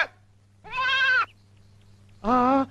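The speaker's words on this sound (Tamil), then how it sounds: "வயல்ல ஆடு மேயுதே" A goat in a field bleats twice, each call a loud, wavering cry of about half a second, separated by a pause over a steady low hum.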